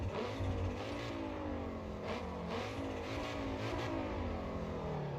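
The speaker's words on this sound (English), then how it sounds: "That's why I'm in the topic here for 5-cylinder noise." A five-cylinder turbo car engine revs in the Assetto Corsa EVO racing game. The drone is loud and steady, with a few swells in pitch, and no voices are heard.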